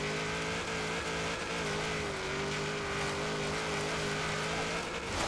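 A V8 Ford De Luxe Coupe hot rod in Forza Horizon 3 holds a steady, loud engine drone while racing, with a sustained even pitch and no talk.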